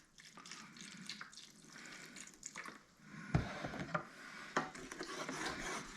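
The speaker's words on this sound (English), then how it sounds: "Let's go ahead and deglaze with just a bit of beef stock." Beef stock goes into a hot stir-fry pan of lomo saltado to deglaze it: soft rubbing and liquid noises, then a sudden splash and hiss midway that carries on as a wet, bubbling rush.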